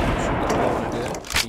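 Loud, dense gunfire from a Fortnite squads match rattles continuously and close, ending with a sharper burst as a voice speaks underneath.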